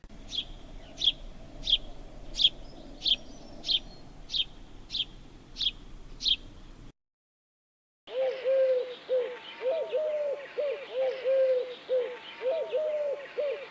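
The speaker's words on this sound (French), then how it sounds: "La tourterelle turque." A house sparrow's sharp repeated chirps in a steady series, then after a short silence, soft rhythmic coos of a Eurasian collared dove repeating close by.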